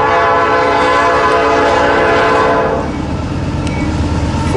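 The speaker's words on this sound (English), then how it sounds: "This is an eastbound stacker." An eastbound double-stack container freight train rolls by on the NS Reading line, a loud, steady rumble of passing cars with a horn blaring through the first part, then continuing wheel and car noise alone.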